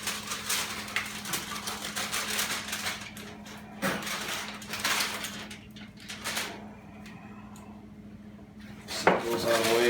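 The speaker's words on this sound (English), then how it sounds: "So I'm going to unwrap both pans." Tin foil being peeled off two pans of ribs, with crinkling and clattering handling noise around a steady low hum, close and moderately loud, broken by sharper metallic knocks.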